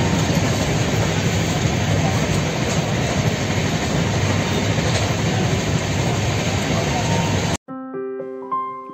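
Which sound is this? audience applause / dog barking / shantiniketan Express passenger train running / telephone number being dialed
shantiniketan Express passenger train running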